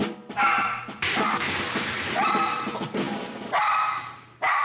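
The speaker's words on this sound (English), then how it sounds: "Okay, hear the bark. See that bark?" A two-legged rescue dog at a Marine base barking in sharp, loud bursts, about five or six close barks in quick succession with brief gaps between them and no talk.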